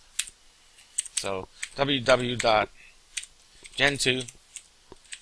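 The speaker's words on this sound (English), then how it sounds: "you have to type in the address for anything you do in links" A web address typed on a computer keyboard during a Gentoo Linux install in VirtualBox. Sparse, close key clicks fall between brief stretches of someone speaking.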